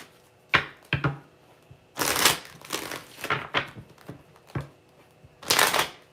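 Tarot cards being shuffled by hand, with irregular crisp riffles and slaps, some sharp and brief and others longer rustling bursts, all close to the listener.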